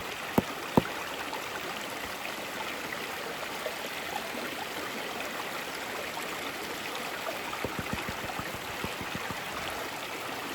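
A river flows in a steady, even rush of water with no breaks, with a couple of sharp clicks early on and a few faint taps near the end.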